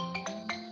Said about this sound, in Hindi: एक मिनट, फोन आ गया, जरा भी आता हूँ।